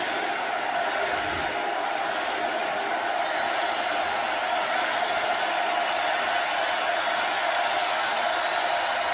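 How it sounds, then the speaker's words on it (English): Stadium crowd at a Florida at LSU college football game, a constant loud roar of cheering and shouting filling the whole stretch, with a faint voice buried in the din. "They're going to get rowdy here on 3rd and long"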